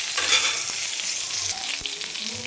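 Cluster beans slit down the middle sizzling in oil on a hot tawa, a steady close crackle and hiss with occasional stirring clicks and no talk.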